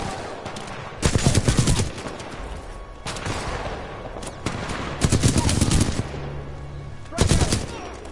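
Automatic gunfire in the Titanfall 2 campaign, with several loud, close bursts separated by quieter gaps of combat ambience and a low rumble in between.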